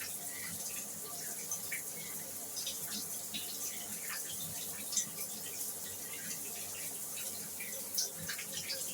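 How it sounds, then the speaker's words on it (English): Shower water running steadily as a continuous broadband hiss and splatter, with a couple of brief louder splashes, no talking over it. "You might hear some strange sounds while the shower water is running."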